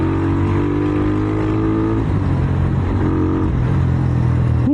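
A Suzuki Thunder 125 motorcycle engine runs at speed of 60 km/h or more with a modified sprocket combination, a loud, steady, droning hum heard up close under wind noise.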